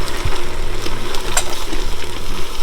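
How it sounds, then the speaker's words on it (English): White wine poured onto vegetables cooking in a pan for jambalaya, giving a loud continuous sizzle and bubbling hiss close up, with no talking. "I like to add some white wine to the vegetable."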